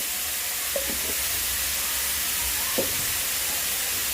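Toasted ground rice being stir-fried in a pan with fish sauce, giving a steady close sizzle and hiss throughout with a couple of brief scraping stirs.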